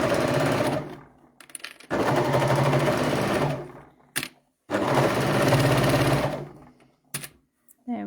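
Sewing machine running a zigzag stitch on children's leggings fabric, two long loud bursts of rapid stitching separated by pauses, with brief clicks and short handling noises in between.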